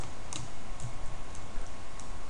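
A few key presses on a computer keyboard, light close clicks spaced irregularly over a steady background hiss.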